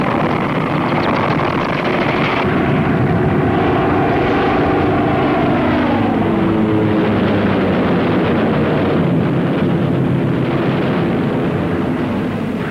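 Wartime bomber aircraft engines in a steady, loud propeller drone with a slowly shifting pitch, alone and without voices throughout.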